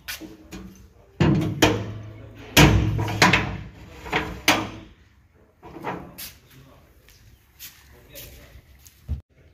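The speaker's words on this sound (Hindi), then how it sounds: "दरवाज़ा बंद कर दो।" A household door is pushed shut in the evening amid several sharp wooden thumps and knocks, close by and fairly loud, with people talking in between.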